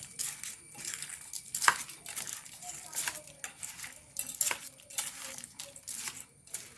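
Vegetables are stirred with coarse rock salt for a vadukapuli pickle, giving a run of close, faint gritty scrapes and clinks in an uneven rhythm, with a voice talking at times.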